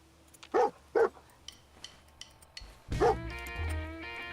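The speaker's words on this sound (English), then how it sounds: "I can hear you barking" Dogmeat, the dog companion in the video game Fallout 4, gives two sharp, fairly close barks. After a pause a third bark follows over a low game hum.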